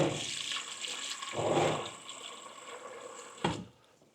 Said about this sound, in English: just a little bit more water.